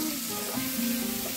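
Onions frying in a pan with garlic and ginger, a steady close hiss of sizzling oil running throughout.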